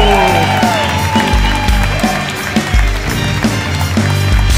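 An audience at a stand-up comedy show applauds with dense, continuous clapping, while a voice is heard briefly near the start.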